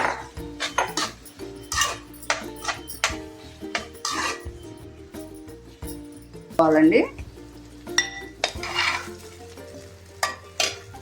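Chopped bottle gourd pieces for sorakai biryani sizzle in a pan as a utensil scrapes and stirs in irregular knocks and clatters, with someone speaking intermittently over the cooking.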